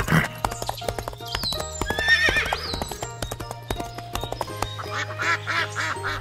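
A horse whinnies loudly over steady clip-clopping hooves, followed by a few duck quacks near the end.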